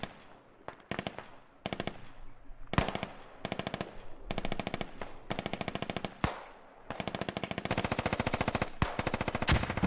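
Machine gun fire in the tactical shooter game Squad, rapid bursts of automatic fire alternating with single sharp shots, loud and repeated over about ten seconds.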